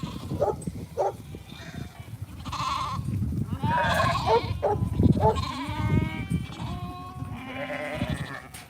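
Mother sheep and lambs bleating on a sheep farm, repeated wavering bleats from several animals close by, with someone talking quietly in between and a brief dog bark.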